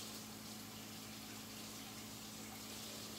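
Water runs steadily from a sink faucet while hands are rinsed, a constant close gushing hiss with no pauses, lasting a few seconds.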